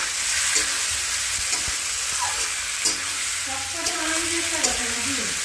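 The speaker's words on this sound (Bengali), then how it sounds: "মাংসটা আর পেঁয়াজটা একসঙ্গে দিয়ে দিচ্ছি তেলে" Meat and onion frying together in hot oil, a steady broad sizzle running throughout with occasional scrapes and clinks of a spoon stirring in the pan, close and fairly loud.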